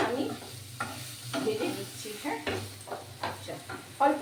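Mushrooms fry in a pan with salt and turmeric, giving a soft sizzle under repeated stirring and scraping strokes at close range, with a few faint background sounds.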